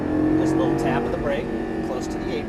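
A Lamborghini Gallardo LP550-2 on a race track, its engine a steady, loud drone holding a strong tone throughout, with someone talking over it in short instructions.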